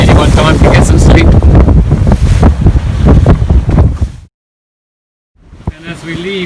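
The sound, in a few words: strong wind at sea on a sailing boat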